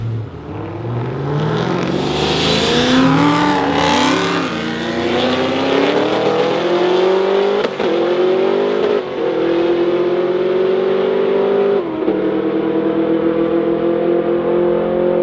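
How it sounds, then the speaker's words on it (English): A race car accelerates hard during a roll race at a Street Car Takeover event in Michigan, its loud engine note climbing steadily through the gears and holding a strained high pitch to the end, with no talk. "sometimes even in roll racing, things can get kind of dicey in a hurry, and Scott laid down, 143 plus"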